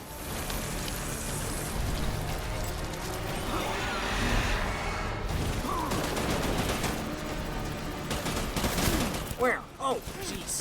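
Dense gunfire in the Death Stranding video game: a sustained barrage of overlapping shots with rain-like crackle, loud throughout, with voices speaking over parts of it.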